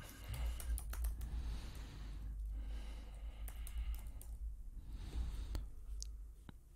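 Quick, light clicking of a computer keyboard as a domain name is typed, close and faint, in short irregular bursts.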